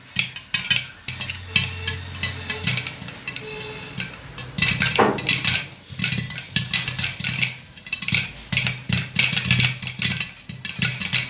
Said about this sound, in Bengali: প্রায় 1 মিনিট নাড়াচাড়া করার পরে দেখেন অলরেডি ভুট্টাটা পপকর্নে পরিণত হচ্ছে।